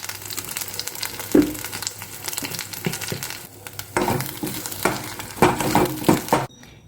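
Mint, coriander and curry leaf chutney stir-fried in oil after mustard seeds have popped, with a rough sizzle broken by repeated spoon scrapes and knocks against the pan, close and unaccompanied by talk.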